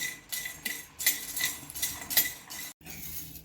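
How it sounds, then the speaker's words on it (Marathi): Whole biryani spices, including green cardamom, are dry-roasted on low heat and stirred in a pan. A spoon scrapes and clatters in quick uneven bursts against the metal, close up and without talk, with one short pause. "सर्व मसाले मंद आचेवर आपल्याला भाजून घ्यायचे आहे"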